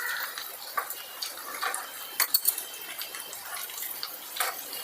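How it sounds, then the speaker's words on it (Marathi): Bread pieces frying in hot oil, making a steady, fairly quiet hiss and sizzle with scattered small crackles and pops throughout. "ब्रेडचे तुकडे एक टाकून असं गोल्डन ब्राऊन करून तळून घेऊ आपण"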